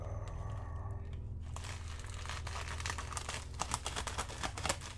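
A mailed package being cut and pulled open by hand, crinkly plastic and paper rustling up close with sharp snips and tearing clicks that grow busier toward the end.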